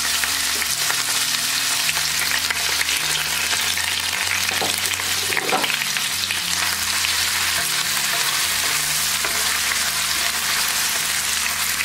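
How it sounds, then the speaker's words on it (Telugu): Mustard seeds, onions and green chillies fry in hot oil with steady, loud sizzling, close by, with occasional stirring scrapes and no talk. "ఆవాలు మనకి వేగాక తాలింపు పచ్చిమిరపకాయలు వేసుకుందాం. అదేవిధంగా ఉల్లిపాయలు కూడా వేసేసుకుందాం."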